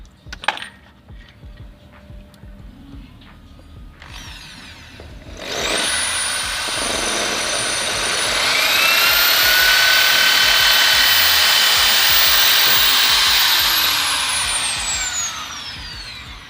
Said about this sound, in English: So as you can see, we've just drilled through a hole using a 6 mm.